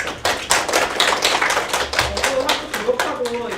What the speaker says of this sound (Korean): 발표를 일단 현지 선생님께 다시 한번 박수 부탁드리겠습니다